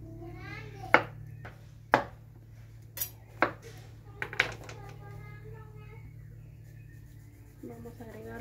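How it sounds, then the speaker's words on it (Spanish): A knife strikes a cutting board in several sharp, spaced chops while cutting melon, with a low steady hum underneath and a voice speaking at times. "Aquí continuamos ya picando el melón."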